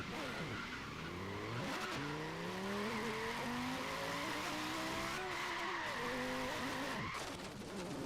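An overweight Lamborghini Gallardo in Forza Horizon 3 skids and fails to brake, with long tire squeal and engine tone rising and falling continuously at a loud, close level, breaking off sharply near the end.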